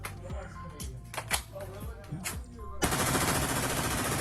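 An XM8 rifle fires on full auto in played-back footage: sharp, rapid shots crack out in short bursts, then give way to a loud, sustained wash of noise, with a voice talking over part of it.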